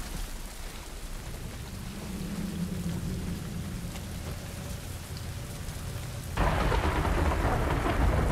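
Heavy rain pours steadily throughout, with a low rumble of thunder rolling underneath, then the downpour surges louder near the end, in the video game The Last of Us Remake.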